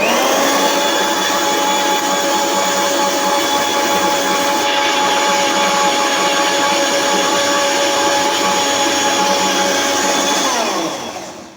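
A kitchen mixer grinder runs alone at close range, a loud, steady high-pitched whirring whine that holds for about eleven seconds before winding down at the end.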